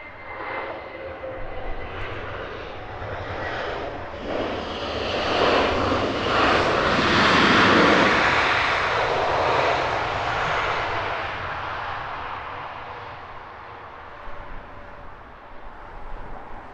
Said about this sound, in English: Nice early runway departure